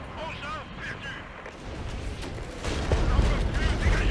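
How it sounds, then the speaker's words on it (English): Infantry mortars firing in the Regiments video game, heard as dull distant thuds and rumble under continuous game noise, growing heavier toward the end. "so these are infantry mortars"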